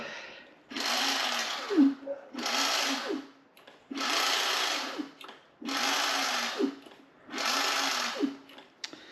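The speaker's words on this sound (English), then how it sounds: "I think it might be the brake is making a noise" A mechanical whirring grinds in five regular bursts, each lasting about a second, with a scraping, rubbing quality between brief pauses, from the brake rubbing on the lifted wheel of an Ace R450 electric scooter.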